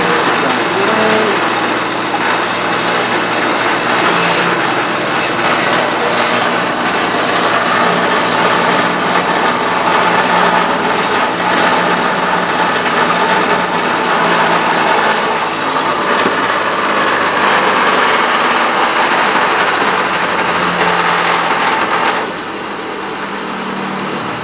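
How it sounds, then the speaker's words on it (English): A small handheld grinder runs continuously, cleaning metal garden pruners with a loud, high, buzzing whine that holds steady before easing down at the end. "If you've got a little grinder, just clean them up a little bit."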